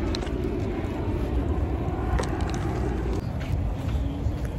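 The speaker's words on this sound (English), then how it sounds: "Why is there airplanes flying at this time of night?" Aircraft flying overhead at night, a steady broadband roar that stays constant and fairly loud throughout with faint traffic-like noise mixed in.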